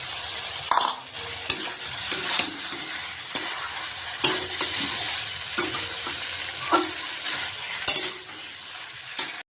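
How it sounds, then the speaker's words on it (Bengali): Fried potato pieces tossed into a hot pan and stirred, a steady sizzle of frying oil broken by repeated scraping and clinking strokes of a spatula, close and fairly loud with no voices. "তারপর ভেজে রাখা আলুকে দিয়ে দেবো।"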